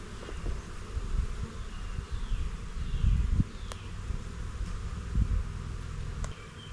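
Honeybees buzz around the entrance of a backyard hive as smoke is puffed in, a steady, close insect drone over low rustling, with a few brief clicks.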